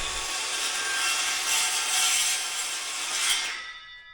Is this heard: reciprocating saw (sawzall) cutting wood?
yes